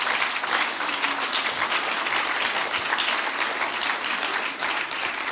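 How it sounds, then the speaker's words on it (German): Sustained applause from a live audience at a talk, dense and steady throughout, filling the room at even loudness before easing slightly at the end. "Gebt ihnen mal einen Applaus."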